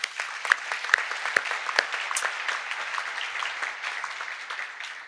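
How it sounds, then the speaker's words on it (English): Conference hall audience gives a round of applause, a dense wash of many hands clapping at steady loudness that thins slightly toward the end. "Round of applause."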